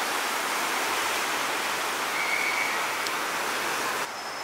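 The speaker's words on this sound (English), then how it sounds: "Wow, see this river" A river rushes through Baden's old town in Switzerland, a steady broadband roar of flowing water that holds evenly at close range and drops slightly in level near the end.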